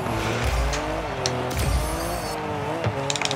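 Cars in the Rocket League video game rev and skid through a drift, with engine whine and short tire squeals over steady game noise, while brief chimes and pickup sounds punctuate the action.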